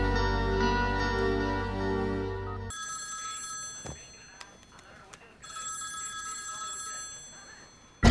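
A telephone rings with a bright electronic tone in two bursts separated by a short gap, preceded by a sustained musical chord.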